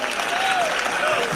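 An audience at a comic Hindi poetry recital breaks into applause, a continuous crowd clapping texture with a voice briefly audible over it.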